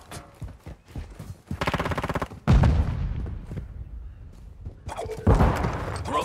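Gunfire in Call of Duty: a rapid machine-gun burst followed by heavy, booming shots and explosions that ring out and decay, loud and close, with brief voices in between.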